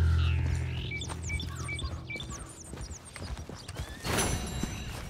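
A horse's hooves clip-clop at a walking pace in the Red Dead Redemption video game, with a brief whinny, scattered birdsong and a burst of wind-like noise near the end.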